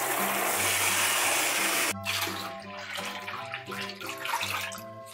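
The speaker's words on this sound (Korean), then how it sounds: "이렇게 찬물 넣어서 물을 미지근하게 만들어 줄게요." Cold water pours from a tap into a bathtub of hot water, a steady loud rush that shifts after two seconds into a lower, gurgling fill with the water level rising.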